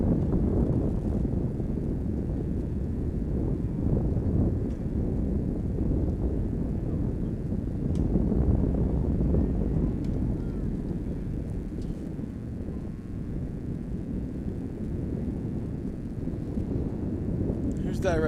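Outdoors at the Clipper Relays, wind buffets the microphone with a low, continuous rumble that swells and eases throughout, loud and close, with no clear pauses.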